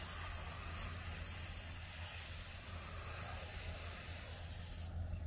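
Airbrush or spray can applying a black undercoat to a 1/35 scale Hetzer tank destroyer model, a continuous soft hiss of spraying that holds steady and close for several seconds.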